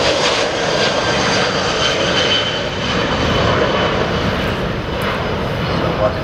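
Turkish Airlines Airbus A330 taking off from Manchester Airport, heard from the runway visitor park, a loud continuous roar of jet engines that stays steady throughout, with a voice talking over it.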